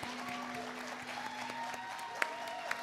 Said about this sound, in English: We applaud winners over here